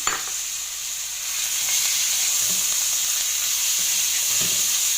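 Ground meat for Shanghai lumpia hits a hot pan over high heat, giving a loud, steady, close sizzle that holds evenly throughout with no voices.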